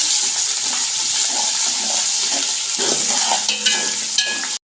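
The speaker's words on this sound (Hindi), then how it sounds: "अदरक लहसुन डाल के मैंने अच्छे से इसको भून लिया है" Ginger-garlic paste fries with onions in a pot for fried chicken pulao, a dense, steady sizzling hiss with occasional soft stirring knocks near the end, loud and close with no speech.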